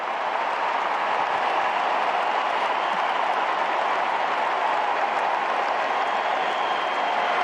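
A packed stadium crowd at the 2024 US Open women's final between Jessica Pegula and Aryna Sabalenka roars and applauds in a steady, dense wash of cheering and clapping that holds loud and unbroken throughout.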